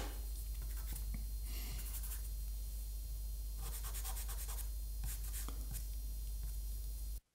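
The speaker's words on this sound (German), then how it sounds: "Das Nasenloch male ich ebenfalls mit dem Kohlestift." A charcoal pencil scratches and strokes across paper while sketching a pastel portrait, giving soft bursts of drawing texture over a steady low hum, close and fairly quiet with no talking.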